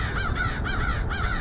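Crows caw repeatedly in a park in Queens, New York on a cold morning, three or four harsh calls in a steady rhythm at moderate distance over a low outdoor rumble.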